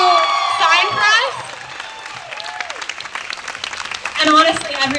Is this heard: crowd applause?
yes